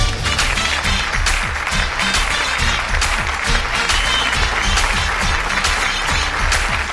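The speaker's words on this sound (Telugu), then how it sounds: "మెగాస్టార్ చిరంజీవి గారికి ఒక్కసారి గట్టిగా చప్పట్లు" A studio audience on the Dhee Jodi dance show bursts into loud applause for Megastar Chiranjeevi. The clapping is dense and sustained, with crisp individual claps cutting through a steady roar for the whole stretch.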